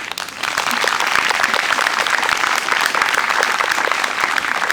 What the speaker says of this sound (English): we should have a round of applause for Sheena as well